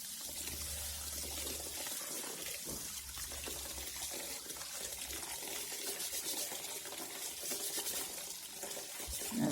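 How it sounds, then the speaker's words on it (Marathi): Finger millet grains being washed and rubbed by hand in several changes of water, as prep for papad: continuous close sloshing and trickling water with a steady, busy texture and a low hum underneath, no voices. "चांगली धुवून घ्यायची 4-5 पाण्याने खसखस हाताने चोळून चोळून"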